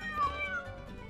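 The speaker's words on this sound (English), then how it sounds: "Meow." Cat meowing in the Loco Dojo Unleashed video game, a single short, faint meow with a falling tone over quiet game background.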